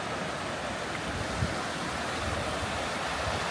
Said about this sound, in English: the sound of the water here is so